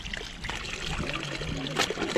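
Spring water trickles in a small jungle stream at Goguney, a soft steady gurgle running close by for the whole moment, with a faint voice or bird-like tone briefly over it.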